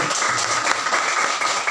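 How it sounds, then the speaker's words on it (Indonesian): Applause from participants after a group discussion session, a continuous wash of clapping at moderate loudness with a few sharper individual claps standing out. "Kita berikan tepuk tangan dulu."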